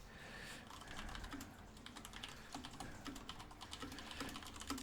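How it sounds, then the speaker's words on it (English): Rapid, irregular keystrokes on a computer keyboard, clicking away at close range in quick bursts with short pauses, fairly quiet and with no talking. "I'm so bad at typing and talking at the same time"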